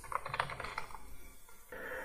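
Keys tapped on a laptop keyboard while entering a product name, a quick burst of clicks for about a second, then a pause and fainter room noise, no talking.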